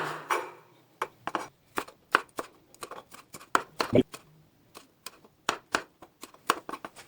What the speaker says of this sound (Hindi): मैंने 3 टमाटर लिए हैं। अब इनको भी काट लेता हूँ।